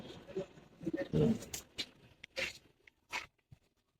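Pigeons of military silver and Gribaz breeds coo in short, soft bursts close by, with brief pauses between calls and faint scuffling in a quiet room.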